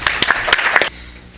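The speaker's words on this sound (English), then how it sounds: "So let's give Lisa a round of applause." Applause at an opening plenary session of a conference on energy, capitalism and the environment, a brief burst of clapping that stops abruptly, leaving quiet room tone.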